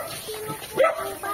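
A dog gives short yips and a whimpering bark near a farm in the Pangasinan area, brief and fairly close, with people talking nearby.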